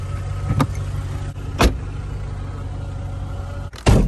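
A small two-seat car's engine idles steadily while warming up after years unstarted, a low constant hum broken by a few sharp clicks and thumps nearby.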